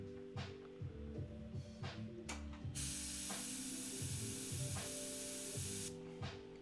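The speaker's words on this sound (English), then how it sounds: "this airbrush is acting a fool" An airbrush sprays in steady hissing bursts, with short repeated pulses and a long continuous spray in the middle, close and fairly loud with no voices.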